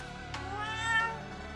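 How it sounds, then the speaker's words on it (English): Chubby orange cat in the video game Zenless Zone Zero gives a single clear rising meow, close and moderately loud over a faint steady background hum. "From the corner of the room, it looks over, meows triumphantly and struts right past our feet."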